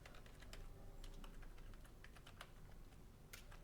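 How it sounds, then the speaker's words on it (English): Rapid keystrokes on a computer keyboard as a file name is entered, uneven clicky taps at close range, with no talking. "So I'm typing the name here, Toyota Corolla"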